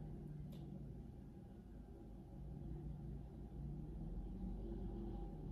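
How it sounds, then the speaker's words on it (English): Trucks passing outside near a construction zone make a steady low rumble heard from indoors, continuous and distant, with no speech over it. "You guys can hear like trucks and stuff outside."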